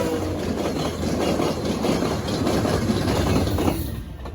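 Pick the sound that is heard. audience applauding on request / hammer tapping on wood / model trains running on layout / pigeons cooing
model trains running on layout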